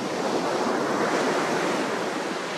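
Steady ocean surf rolls in at a beach just after a storm, a loud continuous wash of breaking waves with some wind, no voices.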